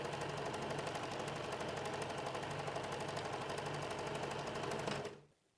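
A sewing machine stitches fabric for the back of a top, running in a steady, continuous mechanical whir near the mic for about five seconds before it stops abruptly.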